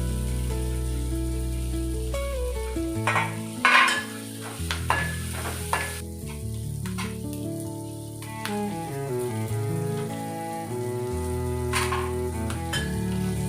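Onions, curry leaves and green chillies fry in hot oil in a pan for zeera rice, with a steady close sizzle broken by scraping, clattering stirring strokes.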